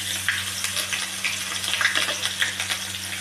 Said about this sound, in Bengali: এটা একটু হালকা গরম তেলে আমি ভালো করে নাড়াচাড়া করে একটু ভাজা করে নেব।